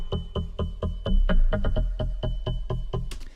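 Harmor-made pluck bass synth repeating short, punchy plucked notes in a steady rhythm, each with a deep low thump and quick decay, alone with no talk.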